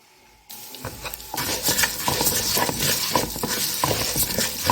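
Vermicelli stirred and frying in a pan of ghee and corn oil before rice is added: a steady bright sizzle starts abruptly, with a spoon scraping and clinking against the pot in an irregular rhythm.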